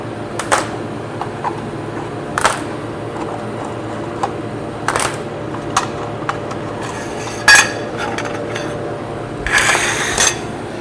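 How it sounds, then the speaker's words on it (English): Metal clamps pulled off a TIG-welded joint, a series of sharp clanks and clinks spaced a few seconds apart over a steady low hum, close by. "Okay, I'll pull the clamps off."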